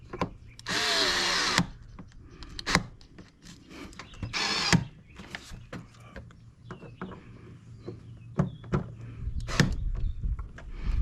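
A power drill drives screws to fasten the radiator back down on a 2000 Chevrolet Silverado, with two sustained whirring bursts, then scattered clicks and knocks of handling tools nearby.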